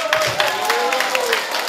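An audience claps hands at a Christmas service at Gyeongbuk Yeonggwang School, with steady, dense clapping sustained throughout and a voice heard over it.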